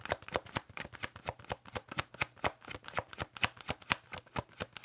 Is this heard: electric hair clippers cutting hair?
no